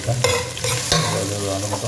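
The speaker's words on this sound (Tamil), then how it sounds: "இப்போ பூண்டு போட்டுருங்க. வெங்காயம் போட்டுக்கலாம்." Garlic and onion drop into hot oil in a pan for a fish kulambu, giving a loud close sizzle with scraping stirs and a couple of sharp bursts as pieces hit the fat.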